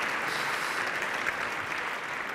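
Continuous audience clapping for lecturer Jan Welzenbach after a science talk on lasers, a moderately quiet, even wash of applause with no voices.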